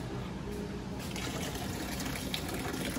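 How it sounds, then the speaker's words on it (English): Water pours steadily over barbecue ribs in a pan, a continuous close splashing and trickling wash with no pauses. "Finish it off with water."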